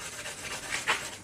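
A ring gemstone is rubbed on thick folded newspaper, giving soft, close scratchy strokes with a brighter rasp near the end, brief and quiet.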